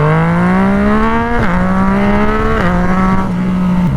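A Yamaha FZ-09 motorcycle engine drones loudly and close during a wheelie, holding a steady buzzing pitch with two abrupt dips and recoveries as the throttle shifts.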